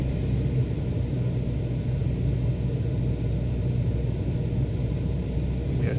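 Steady droning propeller engine of a Cessna Skyhawk in Microsoft Flight Simulator 2024, held on throttle during an RNAV approach at about 65 knots; a continuous, loud, even rumble with no voices.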